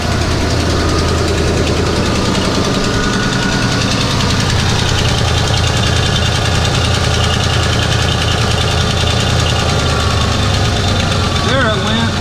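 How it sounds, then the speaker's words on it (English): A 1994 Ford F150 with the 302 V8 runs at high idle with a leaking exhaust manifold, giving a loud, steady engine drone with a rapid ticking pulse that stays even throughout. "So as you can probably hear, I started the truck."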